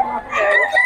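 A rooster crows close and loud in one short, strained call, with possible background voices mixed in.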